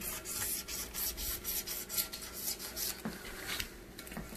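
A speaker part being roughened by hand without reaching the bare aluminum: close, brisk scratchy rubbing strokes in a quick, uneven rhythm, with no talking.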